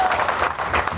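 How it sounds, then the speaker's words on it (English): Continuous applause from a crowd honoring Jack Youngblood at a SoCal booster club gathering, steady and dense clapping throughout a short burst. "Let's give him a round of applause for showing up."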